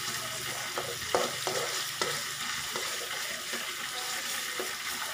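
Ginger stirred in a hot pan for a Filipino milkfish-with-black-bean-and-tofu dish: a steady close sizzle broken by several scraping strokes of the spatula, with no talking.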